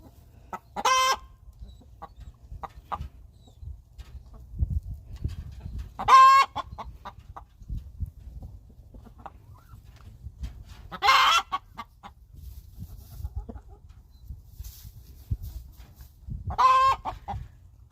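Backyard flock of chickens, with a hen calling loudly in repeated bursts of squawking clucks roughly every five seconds over soft background clucking and rustle.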